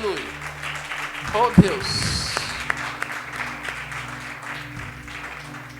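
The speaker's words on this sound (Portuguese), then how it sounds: "Aplauda Jesus." Church congregation during a family worship service applauding, scattered claps rising under a preacher's amplified voice and a sustained organ or keyboard tone, moderately distant and mixed with crowd murmur.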